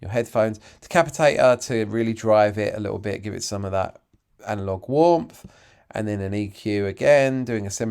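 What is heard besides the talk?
No everyday noises stand out.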